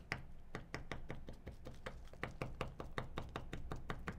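Raw steak being pounded with a meat tenderizer, a rapid, even series of close, dull thuds, about four per second, continuing without pause.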